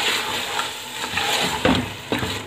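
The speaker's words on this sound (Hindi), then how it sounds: "पालक को अब हम भून लेंगे इसमें अच्छी तरह से" Spinach being fried and stirred in a pan with mutton for palak gosht, a close, steady sizzle broken by several scraping stirring strokes that grow more distinct toward the end.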